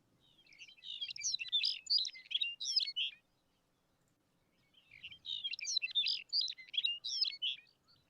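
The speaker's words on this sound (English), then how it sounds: "I love birds that just sound like warbled cassette recordings." Songbird delivering two long, rapid warbling phrases of jumbled high chirps and twitters, separated by a clear pause, quiet and alone against a near-silent background.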